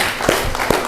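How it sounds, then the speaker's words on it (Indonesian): Brief applause from an audience, a short burst of clapping with a couple of louder claps standing out over a dense background. "Oke, tepuk tangan luar biasa."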